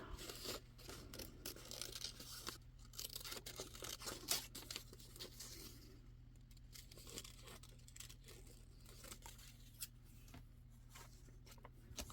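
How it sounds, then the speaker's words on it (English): Scissors snipping through a magazine page for a Valentine collage in a glue book, a quiet close run of irregular crisp cuts with paper rustling and crinkling between them. "Cut the bottom off straight."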